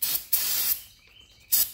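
Compressed-air bursts blow-drying a cleaned Ford Focus and Fiesta DPS6 Powershift transmission part, two sustained hissing blasts followed by a brief third, close and loud, with no talking.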